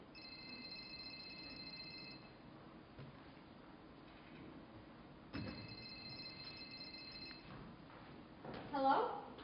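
A telephone rings on a theatre stage during a musical, sounding as two bursts of repeated electronic ringing with a pause between, faint and distant amid room noise.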